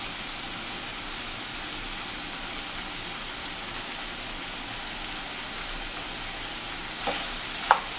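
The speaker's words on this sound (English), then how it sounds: "So now I'm gonna be adding my prawn. I'll mix it together." Prawns frying in a pan for Nigerian party fried rice, a steady close hiss of sizzling oil running throughout, with a few sharp clicks of a spoon stirring near the end.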